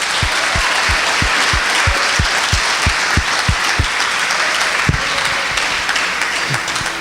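A church congregation applauding during a family worship service, dense steady clapping with a few louder, regular claps standing out near the front.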